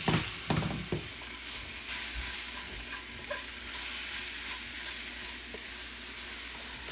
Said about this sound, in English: Just want to crisp up the sweet potatoes.